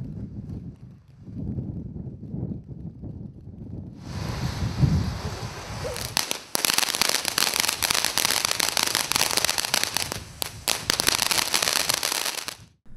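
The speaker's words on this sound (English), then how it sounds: "Here are some highlights from our fireworks test." Consumer fireworks being tested outdoors: a low rumble and fizzing at first, then a long loud run of rapid crackling and popping bursts from firecrackers, near and continuous.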